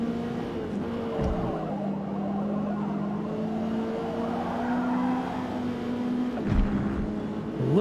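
Race car in the Forza racing game drones with a steady engine note while tires squeal and slide, the pitch gliding slightly, continuous and fairly loud with no voices.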